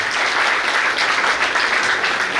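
Dense, steady applause from an audience at a retirement ceremony, loud and sustained from start to end with no pauses.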